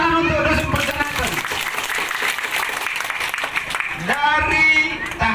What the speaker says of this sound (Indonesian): Tepuk tangan untuk Dusun Perjaratan.